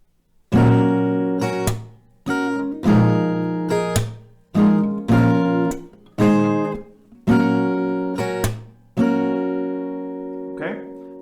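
Slow, ringing strummed acoustic guitar chords, each strum left to sustain and fade before the next, close and unaccompanied.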